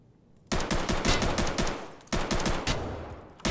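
Gunfire from an automatic weapon emptying its magazine in Escape from Tarkov on the Factory map: two loud, dense bursts of rapid shots, one long and one shorter, with no talking.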